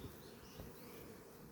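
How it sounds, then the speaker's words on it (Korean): Honeybees swarm and hum around a beehive during the rainy monsoon season, a steady, dense buzzing that holds evenly throughout without a break. "꿀벌이 지금 기고 있죠. 한 마리."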